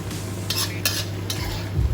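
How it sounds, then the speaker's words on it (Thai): Bamboo shoots and minced pork stir-fried in a pan, with a spatula scraping and clinking against the pan in a few distinct strokes over a low steady hum. "ผัดผัดหน่อไม้ใส่หมูสับค่ะ"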